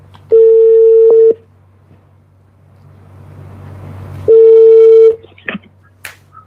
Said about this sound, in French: On est en train d'appeler Marie-Paul Sapeur, ou bien Sapeur.